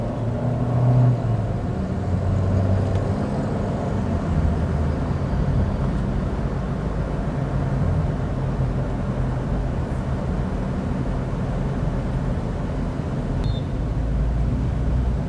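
A car driving along a road in Cocody with light traffic, heard from inside as a steady low engine and road rumble that holds fairly constant throughout, with no talking.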